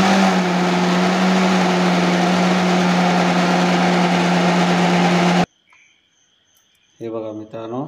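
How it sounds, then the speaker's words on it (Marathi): An electric mixer grinder runs at full speed grinding masala for a Konkani-style homemade mushroom curry, a loud steady high whine with a pitched hum, then cuts off abruptly into near silence before a voice starts talking. "आता मिक्सरात वाटून घेऊया इकडे"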